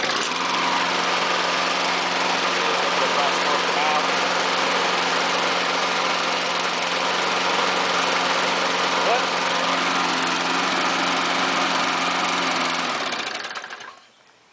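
A JS63C walk-behind lawn mower engine after maintenance runs at a steady, loud, even drone close by, then cuts off abruptly near the end.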